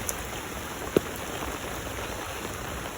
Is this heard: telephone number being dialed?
no